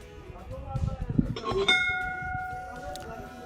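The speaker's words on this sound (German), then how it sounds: "Wenn ihr in Indien einen Tempel betritt und seht eine Glocke, dann genau einmal läuten" A temple bell at a Buddhist monastery in Tabo, India, is struck once and rings out with a bright, sustained metallic tone that fades slowly over low background rumble and faint murmuring.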